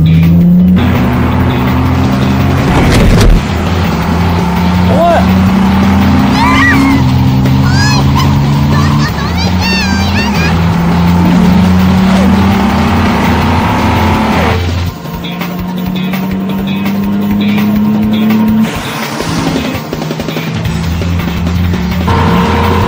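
A Porsche Blackbird racing, its engine roaring loud and close with rising and falling revs as it accelerates and shifts, tires briefly squealing, the tone dipping mid-way before surging again.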